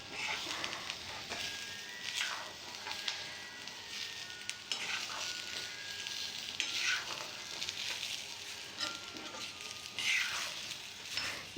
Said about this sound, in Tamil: எல்லா பக்கமும் காரம் போகிற மாதிரி நல்லா வதக்கி விட்ருங்க.